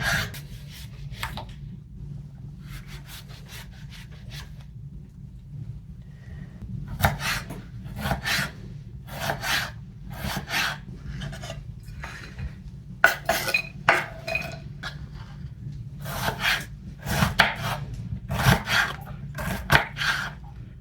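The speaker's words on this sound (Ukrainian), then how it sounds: "Беремо, нарізаємо її на кубики." An onion of about 100–150 grams is chopped into cubes for onion bread, giving close, crisp cutting strokes in quick uneven bursts with short pauses between them. No one speaks.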